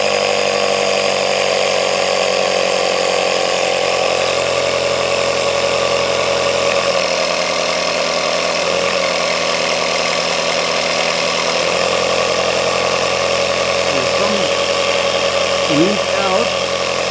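A repaired air compressor runs with a loud, steady mechanical drone and constant hum, a slight change in tone midway and a few faint clicks near the end, with no voices.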